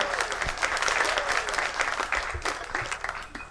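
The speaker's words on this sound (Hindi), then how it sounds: "शिवराम शांति जी के लिए ताली बजा दो।" Audience applause at a Hindi comic poetry gathering (hasya kavi sammelan), a dense, steady wash of many hands clapping throughout, loud and sustained from start to finish with no voices standing out.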